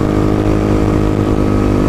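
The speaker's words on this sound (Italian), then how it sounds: "Ho uno scooter dietro." A scooter engine drones steadily close behind while riding, its continuous motor note loud and unbroken throughout with no talking.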